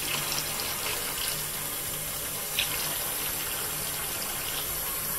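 Hot water from a newly installed electric water heater runs from a tap in a steady, close, continuous gush, with no talking over it.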